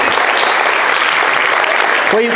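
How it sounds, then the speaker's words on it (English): Applause from an audience at a real estate investor panel event, dense, steady clapping throughout, with a voice briefly heard at the end. "Big round of applause for everyone."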